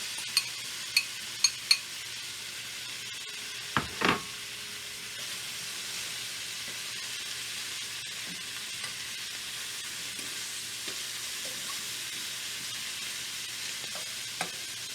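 Italian sausage and one chopped onion saute in a pan with a steady, soft sizzling hiss that runs throughout. A few light clicks from tossing the food come early, and nobody speaks.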